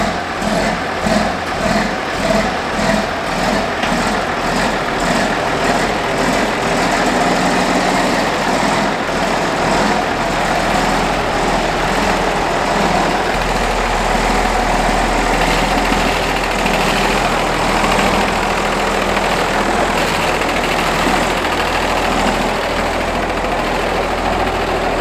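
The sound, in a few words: John Deere 6030 tractor engine idling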